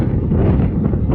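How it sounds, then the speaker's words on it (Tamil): Strong wind buffets a microphone on a mountain top, a steady, loud, low rumbling roar that fills the whole moment with no other sound. "காற்று வேறு அந்த மாதிரி அடிக்குது"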